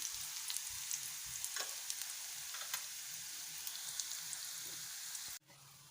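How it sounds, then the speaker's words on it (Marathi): Chopped onion, capsicum and ginger-garlic paste sizzle and crackle in a hot pan while being sautéed for Manchurian, with scattered pops and stirring scrapes before the sizzle abruptly drops to a quieter hiss near the end. "हे सर्व व्यवस्थित परतून घ्यायचं आहे"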